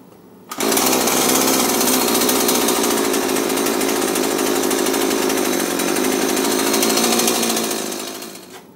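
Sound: Husqvarna 223L weed eater engine starting and running

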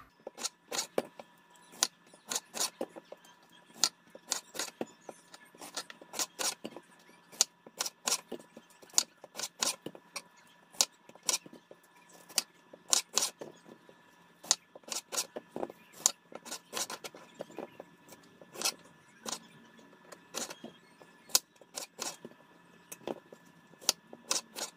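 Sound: cutting up strawberries

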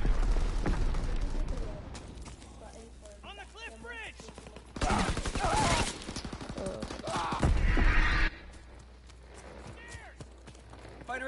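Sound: mortar rounds firing in a WW2 video game

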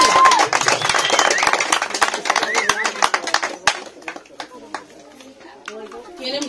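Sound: applause at a golden wedding celebration

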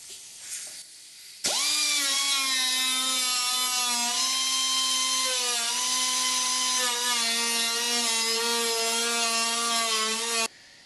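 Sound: die grinder with abrasive pad deburring aluminum sheet edges

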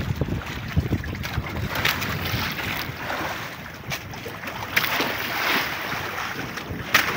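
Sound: strong wind at sea on a fishing boat

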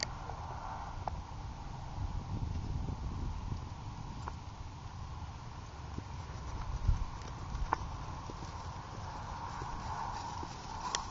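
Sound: horse hooves clip-clopping while being ridden

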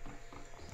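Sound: horse hooves clip-clopping in a video game

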